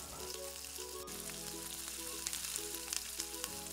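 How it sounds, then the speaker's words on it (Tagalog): Potatoes and carrots fry in cooking oil for chicken afritada, making a quiet, continuous sizzle with soft crackles and spatters over a low background tone. "Tapos i-fry po muna natin ang mga ingredients na mga gulay."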